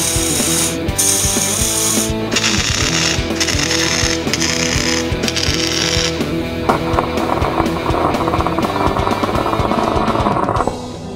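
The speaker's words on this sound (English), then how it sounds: "you can see he's done a ton of tack welding, making sure that everything is going to be where we want it to be" Tack welding a truss onto a Jeep JK rear axle, heard as a loud, continuous crackling arc with bursts of sizzle and metallic rattling close by, steady throughout with no talking.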